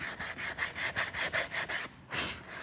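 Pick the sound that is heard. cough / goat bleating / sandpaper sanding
sandpaper sanding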